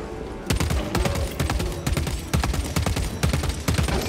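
Rapid automatic gunfire in Warhammer 40K: Space Marine 2, loud repeated bursts of shots in quick rhythm lasting the whole stretch, with no talking.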